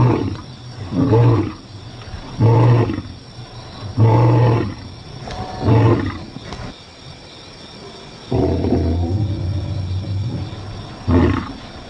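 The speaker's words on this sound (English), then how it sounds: "lions often roar in chorus." Several African lions roar together in a rhythmic chorus of deep, repeated grunting bellows, each burst loud and close, rising and falling in a steady series across the whole stretch with no talking.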